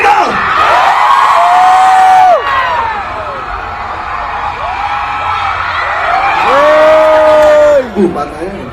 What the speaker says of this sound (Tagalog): Pinakamalakas na sigaw.